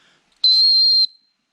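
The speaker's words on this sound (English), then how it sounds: "have a small whistle" A small whistle from a cheap survival kit tin gives one shrill, steady blast of a little over half a second, loud and close, cutting off cleanly into silence.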